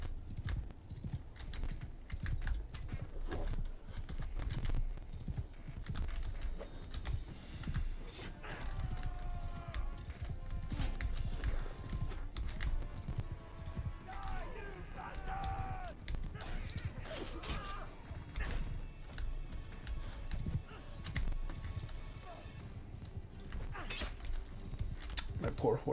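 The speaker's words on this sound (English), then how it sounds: "My poor horse." Hoofbeats of a horse in Mount and Blade 2: Bannerlord, a steady clip-clop running through a busy battle soundscape with creaks and scattered clatter, fairly close and continuous, with a voice talking over parts of it.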